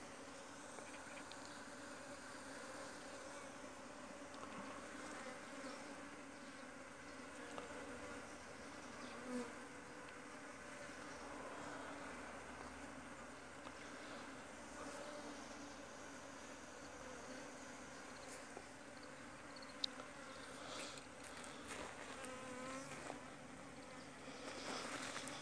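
A swarm of native Korean honeybees entering a hive outdoors makes a dense, steady buzzing drone with many overlapping wingbeats throughout. The sound is soft but continuous, with faint occasional knocks and no talk.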